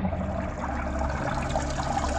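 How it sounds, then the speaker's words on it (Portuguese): Water splashes steadily into the sump of a home aquarium's collection and return setup, a continuous close rushing and trickling with a low hum underneath. "Esse barulho que vocês estão ouvindo de queda d'água mais forte"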